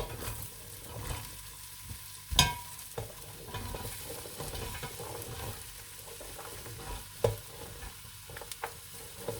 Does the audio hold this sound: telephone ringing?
no